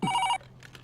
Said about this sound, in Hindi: Take the phone sir.